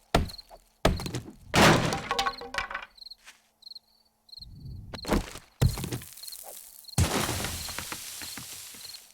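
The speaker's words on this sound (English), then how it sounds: "Let's bang on the door." Several heavy thuds and crashing bangs against a door in the survival game 7 Days to Die, irregular hits separated by pauses with faint chirping insect ambience in between.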